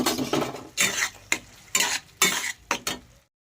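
Spices frying in oil while being stirred in a pan for a banana flower and shrimp dish, several separate scraping strokes with sizzle between them, close and loud, ending in silence.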